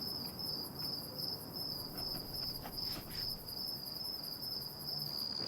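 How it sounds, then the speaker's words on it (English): Backyard crickets chirp at night in a steady, rapid pulsing chorus, moderately distant and quiet, continuing without pause. "Every night there's a cricket concert in her backyard"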